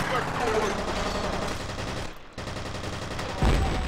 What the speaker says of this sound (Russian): О, я гранату в воздухе взорвал.